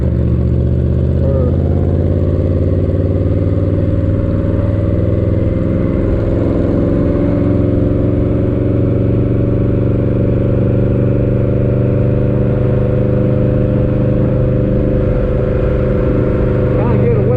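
A Yamaha V-Max motorcycle engine runs loud and close under riding wind, with its pitch gradually rising and falling as the rider attempts a wheelie.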